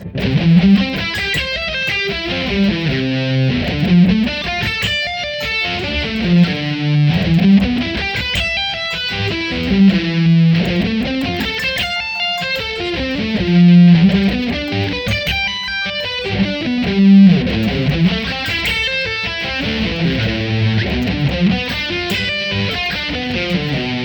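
Distorted electric guitar plays arpeggiated chords, notes ringing one after another in a steady rhythm through a long, continuous passage.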